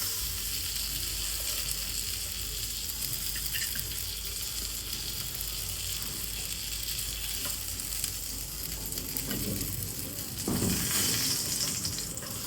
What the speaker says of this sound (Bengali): মাছগুলো আমার সুন্দর ভাজা হয়ে গেছে